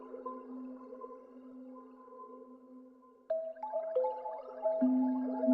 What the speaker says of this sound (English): It's a kalimba, again, processed through something.